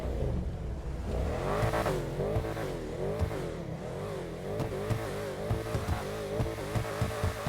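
An SUV engine in GTA Online revs hard through repeated rising and falling surges, a close, loud mechanical growl with no talking.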